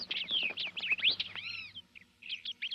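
Small songbirds chirping and trilling in a forest, a quick run of bright close calls followed by a short pause and a few more chirps, with a faint low hum underneath.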